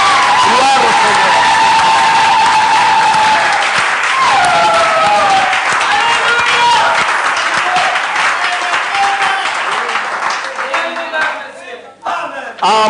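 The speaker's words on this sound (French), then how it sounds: "Est-ce qu'on peut applaudir la parole?" Congregation applauding and cheering in church during a sermon, loud sustained clapping from a large crowd with shouting voices mixed in, tapering toward the end.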